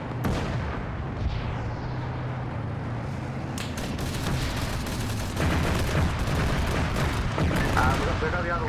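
Gunfire in the Arma 3 war video game as players fight a tank in a town: dense bursts of rifle and heavy weapon shots and booming blasts rolling together, loud and continuous, with faint voices mixed in.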